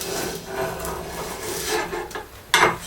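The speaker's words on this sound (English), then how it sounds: "to grind that back to good steel before I even start to apply the bevel" A grinding machine in a workshop grinds tool cutting edges back to good steel, giving a close, loud, continuous rasping with a sharper burst near the end.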